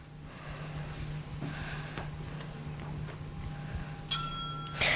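A bell rings once near the end at a departmental final of a children's reading competition. It sounds as a short, bright, ringing tone over a quiet room hum.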